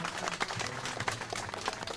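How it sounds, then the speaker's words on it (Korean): Audience applause at a Korean political by-election rally, a quiet, dense stretch of clapping hands from a crowd with scattered sharper claps throughout. "우리 박성효 시장께 여러분 큰 박수로 격려의 박수 부탁드립니다."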